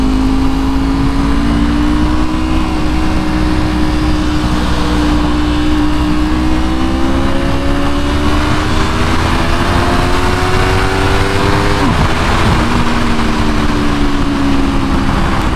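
An Aprilia RSV4 motorcycle engine runs loud and close, idling with a steady throb and rising and falling through several gentle revs over about fifteen seconds, with no speech.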